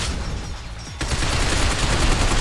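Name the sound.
gunfire in video game Binary Domain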